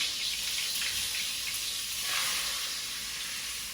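Butter melts and sizzles in a hot cast iron pot or Dutch oven, giving a steady, close, hissing fry that swells slightly midway and keeps going with no talk over it.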